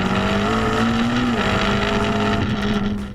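A McLaren P1 GTR race car flat out at speed, its loud, steady engine note droning continuously with a slight pitch rise and dip, close and unbroken throughout.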